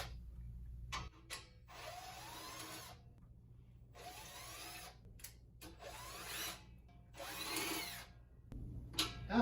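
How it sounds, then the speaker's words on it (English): A power drill takes screws out of a Duratec chimney cap in four separate whirring bursts. Each burst lasts about a second and a low hum runs between them. "First, we have to remove the 4 screws that are holding the top of the cap to the bottom of the cap."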